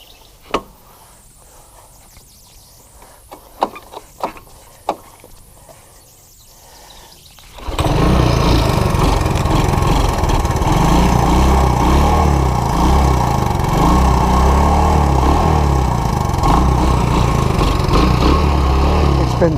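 Honda ATC185S three-wheeler engine, an older machine that had been sitting for a while, catches and runs on choke with a steady, loud, close putter after some quiet clicks and faint birdsong.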